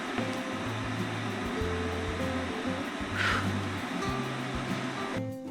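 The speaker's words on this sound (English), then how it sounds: "While the kettle's going, which you can hear in the background" An electric kettle heating water, a steady rushing hiss with a low rumble, continuous throughout at moderate loudness.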